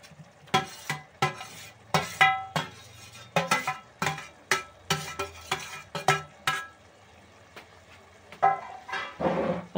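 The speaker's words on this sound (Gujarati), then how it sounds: "અને હવે આપણે એની અંદર નાખી દઈશું આપણા જે આપણા ઈંડા હતા એ." Whole eggs go into a thick, spicy gravy in a pan and are stirred, giving a run of repeated scraping and clinking strokes of a spoon against the pan over a soft sizzle, close and steady.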